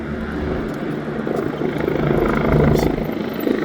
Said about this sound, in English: I don't know if the helicopter was trying to take off and then landed again